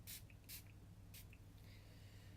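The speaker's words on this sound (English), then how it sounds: "I'm just going to spray that on my face." Three short, close hissing bursts of a fine facial mist spray onto a face, with quiet pauses between them.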